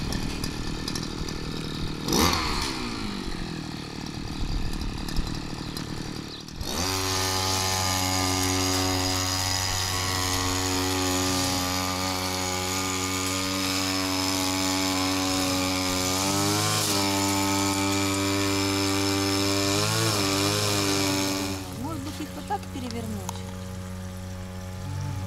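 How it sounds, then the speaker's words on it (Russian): A string trimmer starts up after a few knocks and handling noises, then whines steadily and loudly at high speed with slight pitch dips, cutting overgrown grass at a southern house before it winds down. "Вот, все, катушка заряжена. Можно косить."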